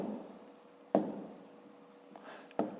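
Pen strokes writing on paper during a Ukrainian fifth-grade math exercise, short scratchy strokes with three sharper taps, close and fairly quiet, with a faint voice in the background.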